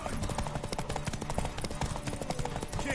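Horse hooves pounding rapidly in a galloping race in Witcher 3: Wild Hunt, a dense, loud, continuous drumming of clip-clops mixed with game ambience and noise.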